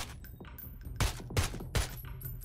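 Gunfire in the video game PUBG, three sharp, loud shots spaced a few tenths of a second apart, with fainter game sounds between them.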